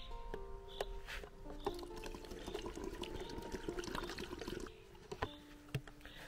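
Homemade windshield washer fluid pours through a funnel cut from a plastic bottle, a continuous gurgling trickle with small knocks and clinks of the bottle, close and fairly quiet.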